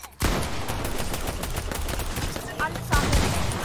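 Video game gunfire that breaks in abruptly after a short quiet moment, a sustained volley of close, loud shots rattling on continuously, with a heavier burst near the end.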